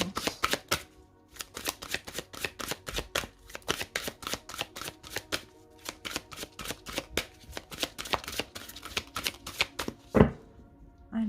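Oracle cards being shuffled and cut by hand: a rapid series of crisp, close riffling clicks with brief pauses, ending in a sharper tap.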